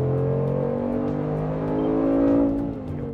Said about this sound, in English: Now we'll try to speed up on the roads using the sports mode to check the car's acceleration.